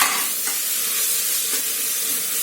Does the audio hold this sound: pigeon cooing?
no